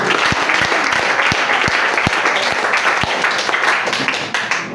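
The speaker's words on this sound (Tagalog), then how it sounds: "Palakpak niya sa Ginoo." A church congregation claps for the Lord during a sermon, loud sustained applause from a crowd with a few sharp thumps mixed in, tapering at the end.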